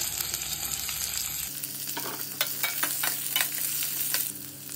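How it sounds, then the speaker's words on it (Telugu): Cut ivy gourds (dondakaya) fry in hot oil with a steady, close sizzle. Stirring scrapes and clatters come in quick irregular strokes over the hiss. "అదే ఆయిల్లో మిగిలిన కట్ చేసి పెట్టుకున్న దొండకాయలు వేసుకొని ఫ్రై చేసుకోవాలండి"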